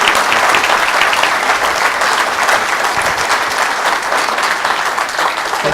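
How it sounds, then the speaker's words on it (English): Loud, sustained audience applause for entrepreneur Paul Orfalea at a university speaker series, dense clapping continuing steadily without a break. "let's give Paul a big round of applause"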